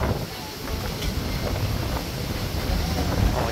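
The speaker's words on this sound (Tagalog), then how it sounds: "grabe ang hangin, oh" Strong wind blowing across moored fishing boats on the shore, a loud, steady roaring rush with buffeting against the microphone and faint sea noise beneath.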